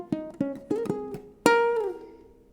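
Ukulele picking the closing riff of a song, a quick run of plucked single notes followed by a longer ringing note that bends and fades, played alone and close.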